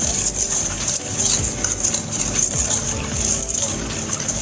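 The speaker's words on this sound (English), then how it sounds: "whisk the oil and the sugar." A hand whisk beating oil and sugar together in a bowl for blueberry muffin batter, a close continuous scraping and swishing with a bright metallic edge.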